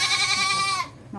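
A pygmy goat on a farm lets out a single loud, wavering bleat close by, lasting most of a second before cutting off into quiet outdoor background.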